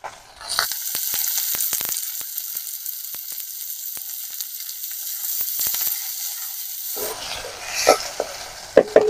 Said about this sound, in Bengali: কড়াই অনেক গরম হয়ে গেছে, এবারে দিয়ে দেব পেঁয়াজ কুচি